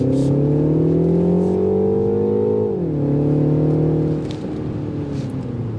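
A 2025 Mini Countryman S All4 accelerates hard, its engine note climbing steadily with a brief dip at a gear change before rising again, loud and close with no talking.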